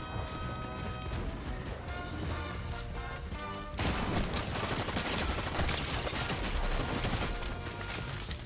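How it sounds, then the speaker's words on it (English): Shotgun fire in the Fortnite video game, a loud, dense barrage of shots, crashes and impacts layered over busy game sound, with a sharper burst of blasts in the second half. "The shotguns shoot so fucking fast."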